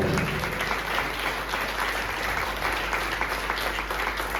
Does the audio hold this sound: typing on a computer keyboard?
no